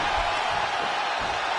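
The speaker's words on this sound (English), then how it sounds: "when you can't hear yourself think because the crowd's so loud" An arena crowd roars continuously during a wrestling match in the WWE 2K25 video game, a loud, dense, sustained wash of crowd noise with faint cheering swells.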